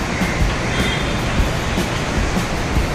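A metro train pulls away from a station platform, a steady loud rumbling roar with broadband rail noise running throughout, no voices.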